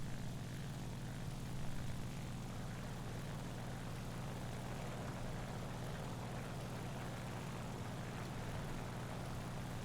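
Steady, dense propeller engine drone from a Ki-94-II fighter straining to climb in the War Thunder video game, loud and unbroken throughout with no talk.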